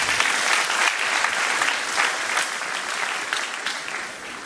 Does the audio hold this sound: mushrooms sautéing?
no